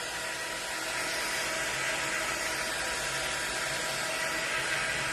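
A blow dryer pushes warm air over wet craft paste, a steady broadband whoosh that holds even and fairly near from start to finish with no talk.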